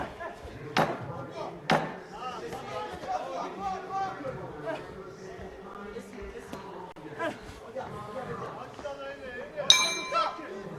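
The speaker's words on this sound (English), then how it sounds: "The bell goes to the end of the first round" A boxing bell marks the close of the first round of a 71 kg bout at the 2025 men's world championships, ringing out in clear metallic clangs amid crowd chatter and a commentator's voice.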